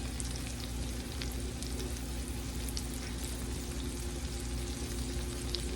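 Jalapenos, onions and fresh garden vegetables sizzle steadily in a big skillet, a dense, continuous frying hiss at close range with no voices.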